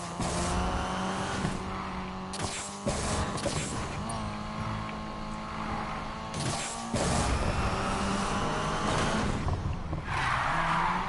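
A car in the racing game Need for Speed Payback skidding with tires squealing through a handbrake turn, engine droning and shifting pitch, sustained and loud with breaks in the skid.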